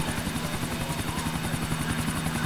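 Helicopter flying in GTA IV, a steady, loud rotor thrum with rhythmic blade chop and engine whine running continuously throughout, no voices.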